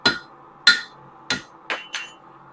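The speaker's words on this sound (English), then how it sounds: "the next thing that we're going to do is hammer it out the backside" A metal eye hook is struck from the backside with a hammer in five sharp, ringing blows, evenly spaced at first and then closer together, each with a quick metallic decay.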